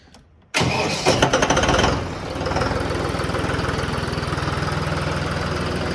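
A 5210 diesel tractor, parked unused for many days, cranks on its self-starter and fires, the sudden loud churn settling into a rough, rhythmic idle that chugs on steadily close by.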